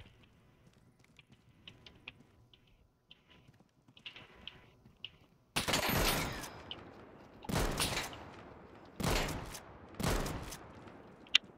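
Gunfire in the video game Deadside: a quiet stretch of faint clicks, then several loud, sharp bursts of shots in quick succession, spaced about a second or two apart.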